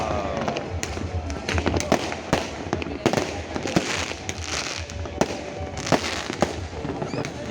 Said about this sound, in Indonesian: Makin banyak saja kembang api dari segala penjuru.